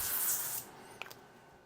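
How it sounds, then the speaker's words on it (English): Cooking oil hisses from a spray can onto a pan in one short, fairly close burst, followed by a couple of faint clicks. "we're going to spray a little bit of oil on here."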